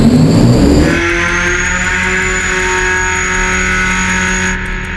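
A 16-cylinder Detroit Diesel engine in a super truck fires up with a loud, rough burst, then settles into a steady, droning, humming idle with a thin high whine above it.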